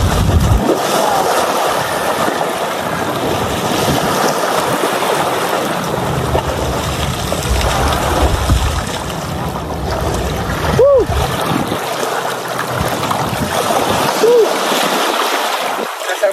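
Sea waves wash steadily at an open seaside spot in Monte Maria, with a boat nearby; a loud, continuous rush of surf and splashing water fills the whole stretch.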